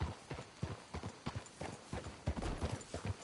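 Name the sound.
horses clip-clopping in a video game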